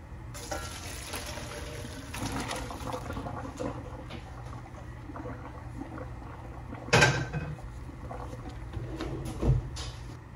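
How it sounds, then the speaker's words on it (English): Pasta water pours through a strainer into a sink, a continuous rushing splash with a couple of sharper metallic clanks partway through. "we're going to drain our noodles"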